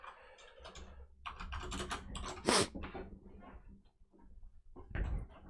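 Rapid clicking keystrokes on a computer keyboard come in quick bursts, close and fairly quiet, with a short pause before a final flurry of taps and a slight knock as the keyboard is shifted.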